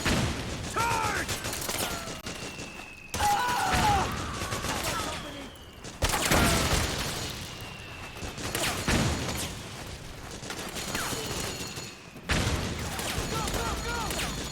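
Sustained battlefield gunfire in Metal Gear Solid 4, rapid bursts of automatic weapons and heavier blasts crackling continuously and loudly across the whole stretch, with shouted soldier voices mixed in.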